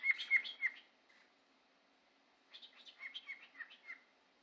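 A pet cockatiel chirps in two bursts of quick, high tweets, separated by a quiet pause, close and fairly soft, with no talking.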